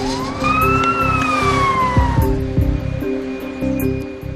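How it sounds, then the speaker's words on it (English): An ambulance siren wails with a rising and falling tone over a layered, dramatic music bed, and the siren fades after a couple of seconds. "An ambulance and crew were dispatched to number 40 Ebestrasse"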